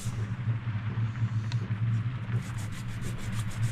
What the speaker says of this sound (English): just giving them a glance over this DA pad, just to get all the grime out the surface